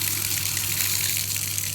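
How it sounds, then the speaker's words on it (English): Water gushes steadily from a thermostatic bath tap, with air bubbles sputtering through the flow. The sound is close, continuous and fairly loud, and no one speaks. "Oh, you can hear the air bubbles coming back through it now."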